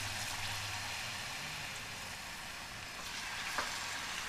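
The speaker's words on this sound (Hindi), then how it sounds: "एक बार में जितने पकोड़े आ जाते हैं उतने डाल के हम अच्छे से फ्राई कर लेते हैं।" Buckwheat flour pakoras fry in hot oil in a kadai over a high gas flame, giving a steady, soft bubbling sizzle that stays even throughout, with a faint clink near the end.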